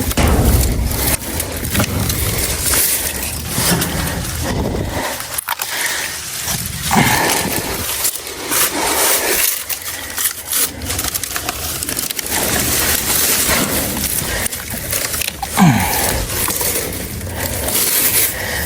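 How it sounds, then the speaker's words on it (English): Loppers cutting through saplings outdoors while brush is being cleared: loud, close snaps and crunches of woody stems over constant rustling of branches and leaves, with no talk. "You gotta cut saplings out of your way."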